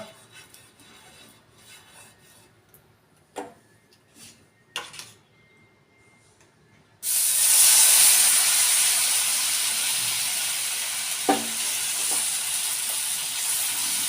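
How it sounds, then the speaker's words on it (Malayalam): Oil hits a hot griddle for rava dosa and breaks into a sudden loud, steady hiss. Before that, only a few faint clicks and knocks are heard in a quiet space. "കല്ലൊക്കെ നല്ല ചൂടായിട്ടുണ്ട് നമുക്ക് എണ്ണ എണ്ണ പിടിക്കാം കുറച്ച് എണ്ണ ഇടാം"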